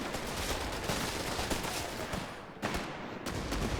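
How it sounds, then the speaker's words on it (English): Dense, continuous barrage of gunfire and explosions in a wartime strategy video game, with heavy 17 pounder anti-tank gun fire amid the rolling battle noise; loud and unbroken, with a sharp crack near the middle. "That's some heavy firepower from the 17 pounder"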